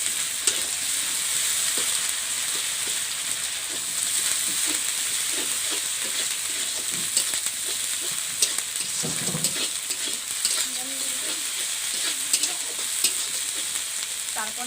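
A dry chilli and cumin paste frying with onions for a village-style Bengali fish curry makes a constant close sizzle, broken by intermittent scraping stirs and occasional pops over the long stretch.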